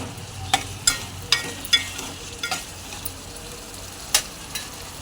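Raw prawns fry in a pan for a bitter gourd curry, giving a soft steady sizzle with several sharp clinks of a utensil stirring against the pan; no talking.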